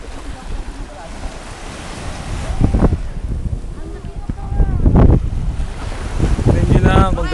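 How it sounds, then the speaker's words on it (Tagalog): Sea waves wash in at a beach in Cavite during a summer outing, surf surging in several swells under heavy wind buffeting the microphone, with people talking nearby. "Tignan mo yung dagat."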